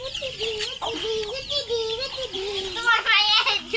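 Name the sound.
chicken clucking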